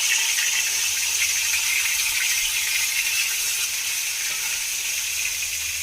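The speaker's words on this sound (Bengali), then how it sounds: "সরষের তেল দিয়ে দিলাম মাছ ভাজার জন্য" Fish frying in mustard oil in a wok makes a loud, constant, close-up sizzling hiss that holds steady from start to finish with no talking.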